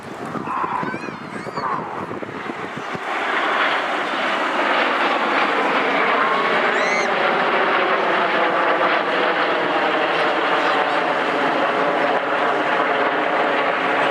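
Red Arrows jets at the Swansea Airshow 2013 flying a formation roll, a loud sustained roaring engine wash that builds and stays near and heavy, with crowd noise and faint calls early on.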